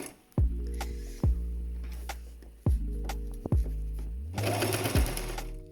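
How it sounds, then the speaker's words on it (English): Sewing machine stitching a face mask made from a Hoover vacuum bag, running in several short loud bursts of rapid whirring, each starting with a thunk and stopping abruptly, close by with no talking. "I'm going to sew it stitches with the machine."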